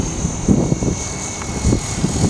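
An RC model airplane flies with its throttle raised, giving a steady motor drone in wind, with a few louder swells and gusts of wind noise across the microphone.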